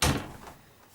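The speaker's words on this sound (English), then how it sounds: "Let me close the door." A house door swings shut with a single soft thud up close, the impact ringing briefly and fading into quiet room tone.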